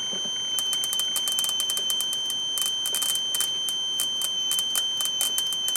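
Ignition spark from a wire arcing on a Mercruiser 5.0 V8 carbureted marine engine running rough, rapid crackling snaps in irregular bursts over a steady high electrical tone, close and clear.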